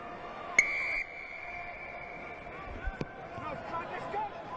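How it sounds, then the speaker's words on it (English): Rugby referee's whistle at a community cup final match, one short sharp blast early on, then faint crowd noise and outdoor murmur, with a distant voice carrying under the sound. "I'll blow my whistle"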